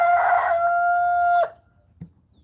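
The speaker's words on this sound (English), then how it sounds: "the rooster is right behind over here" A rooster crows loudly and close by in one long sustained call, which cuts off sharply, followed by a single faint knock.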